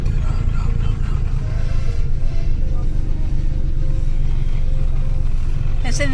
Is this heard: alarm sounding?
no